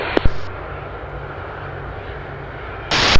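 An ATR airliner rolls on the runway at Belgrade Airport, heard as a steady, distant engine rumble with brief radio tones at the start and end.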